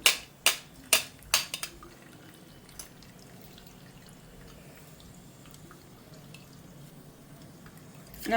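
Hot coconut oil dripping through a strainer: a handful of sharp, close drips and splats at the start, then a quiet stretch with faint trickling and one more drip at the end.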